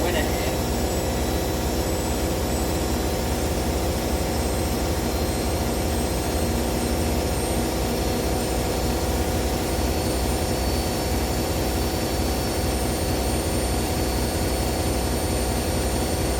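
A Hoover H-Wash 300 washing machine runs alongside a Candy machine, giving a steady, continuous motor hum and rumble at moderate level throughout.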